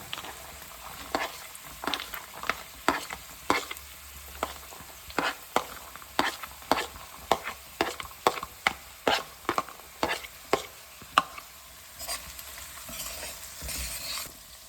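Sweet corn being stirred in a frying pan: a quick series of distinct scraping stirs over a soft sizzle, the strokes coming in a brisk uneven rhythm before easing off.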